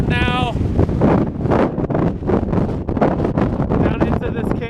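Strong wind gusts roar across the microphone on a rocky mountain descent toward a canyon lake, loud and continuous with pulsing buffets, and a few bursts of tonal sound near the start and end.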